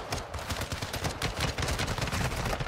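Sustained rapid automatic gunfire from a Kastov 545 rifle in Warzone 2, loud and continuous with dense repeating shots and no voices.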